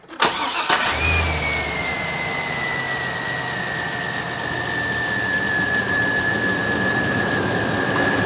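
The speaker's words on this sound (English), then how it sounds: "get in the car, start the car, turn the AC on to max" A car is started to run the air conditioning: a short crank, then the engine catches and settles into a steady, fairly loud idle with a thin whine riding on top.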